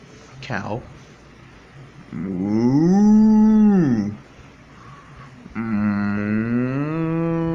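A voice imitates a cow mooing, giving a short call followed by two long, drawn-out moos, close and loud.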